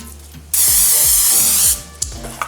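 A single sustained hiss of aerosol cooking spray onto a baking sheet lasting about a second, followed by a couple of light clicks and taps.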